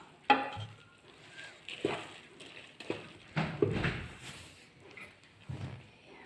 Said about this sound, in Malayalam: ട്രയിലേക്ക് ഒഴിച്ചു കൊടുക്കുകയാണ്